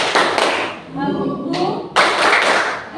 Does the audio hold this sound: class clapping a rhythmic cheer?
yes